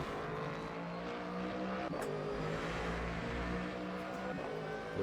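Race car engines roar in a multi-class Le Mans Ultimate video game race at Brazil, a steady droning blend of engine tones with shifting pitch that continues throughout at moderate level.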